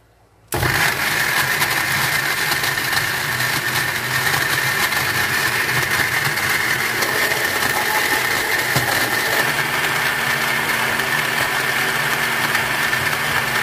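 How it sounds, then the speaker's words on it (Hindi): An electric blender starts abruptly and runs at a loud, steady whir while blending a date milkshake with dates, milk and sugar, with no talking over it. "मैं 2 टेबलस्पून शुगर ऐड कर रही हूँ। इसे ब्लेंड करेंगे।"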